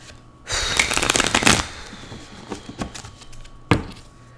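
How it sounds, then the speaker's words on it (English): Tarot cards are riffled and shuffled in a rapid, crisp burst, followed by several softer taps and one last sharp snap. "let me give this a little shuffle."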